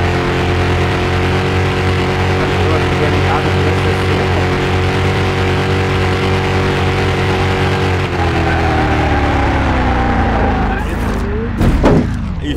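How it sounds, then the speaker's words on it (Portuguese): A loud, steady car engine rumble with a deep, throaty exhaust tone from an old car awaiting restoration, continuous throughout, rising briefly near the end. "o ronco desse carro tá alto demais"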